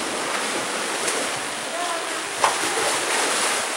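Sea waves washing and splashing inside rocky sea caves at Tingari Bay, a continuous wet rush with a brief sharper splash, close by and fairly loud.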